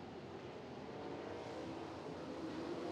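Sprint race cars at Williams Grove racing into a turn, a faint, distant continuous engine roar that swells slightly.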